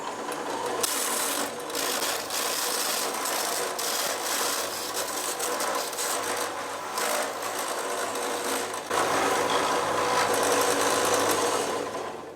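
A chisel cuts down a brass tube spinning on a lathe, giving a continuous loud scraping, rasping whir with a steady machine hum throughout and a slightly louder, harsher stretch near the end.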